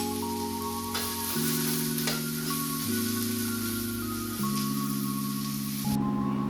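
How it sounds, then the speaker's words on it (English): Mushrooms sauté in a hot pan over a high flame, a steady close sizzle running throughout beneath a loud sustained musical tone. "you can add in your mushrooms on a high flame and sort of saute them till they have caramelized"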